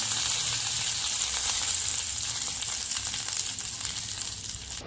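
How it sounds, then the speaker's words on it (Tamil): Curry leaves tempering in hot oil for a spinach, eggplant and yogurt dish, a loud, dense, continuous crackling sizzle close by with no talk. "இப்போ இதில் கொஞ்சம் கருவேப்பிலை போட்டுருங்க. நல்லா இது பொரிஞ்சு வந்துருச்சு."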